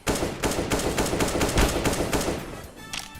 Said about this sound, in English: The shooting.